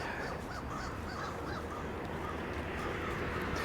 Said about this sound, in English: did you hear the crows flying over?